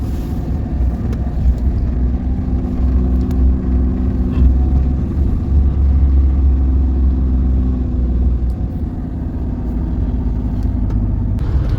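Steady car engine drone and road rumble heard from inside a moving car, a constant loud low hum with no talking over it.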